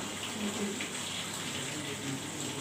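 Water is poured into a batter of sweet potato, potato and ginger for crispy fritters, making a steady, close trickling and splashing wash that runs continuously with no speech.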